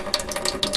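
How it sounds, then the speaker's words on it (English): A sink faucet runs a thin, close stream of water for under a second, a steady splashing hiss with no speech. "I'm going to turn on the water just a bit"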